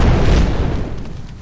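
A grenade blast in the video game Fable 3, a single loud, close boom that rumbles and fades over about a second.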